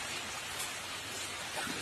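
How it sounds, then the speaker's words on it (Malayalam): Heavy rain pours steadily in the background, a dense even hiss with no break across the whole moment, alone with no talking. "നല്ല മഴയുണ്ട് ബാക്ക്ഗ്രൗണ്ടില്."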